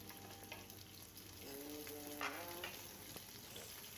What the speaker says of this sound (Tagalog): Dito sa ating kawali, maglagay tayo ng mantika. Igisa natin ang ating onion hanggang mag-aromatic.